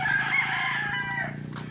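A rooster crows one long, drawn-out call, loud and fairly close, with a faint steady hum underneath, on Siquijor Island in the Philippines.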